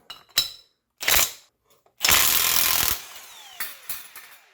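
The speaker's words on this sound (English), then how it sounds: "So with the impact wrench, we got the nut and the washers off the back side" Impact wrench turning counterclockwise on the nut of a stuck, seized bottom bracket cup: several short hammering bursts, then a longer rattling run of about a second, followed by a few quieter taps, loud and close.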